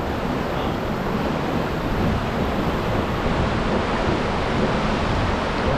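Riffle rapids on the McKenzie River give a loud, steady broadband rush of churning water, unbroken and close, with no voices.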